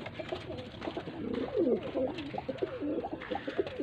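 A breeder pair of Faisalabad pigeons gives soft, close, rolling coos in a few warbling phrases over low background noise.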